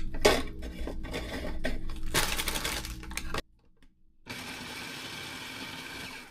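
A blender pulses Biscoff cookies into crumbs for a no-bake cheesecake crust, in loud, rattling bursts of chopping, then a brief near-silent pause before a steady, lower whirring resumes.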